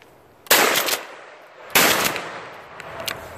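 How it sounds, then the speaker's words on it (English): Two loud gunshots ring out about a second apart during a rabbit hunt with jump dogs, each blast sharp and close with a long reverberant tail and no talking. "Two shots. I didn't want to do two shots, but I had to."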